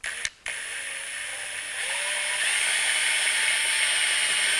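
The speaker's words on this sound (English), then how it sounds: "So I'm going to pre-drill it first." A drill whirs steadily after a short click and pause, its high mechanical buzz growing slightly louder as it pre-drills a hole while installing an oil cooling system.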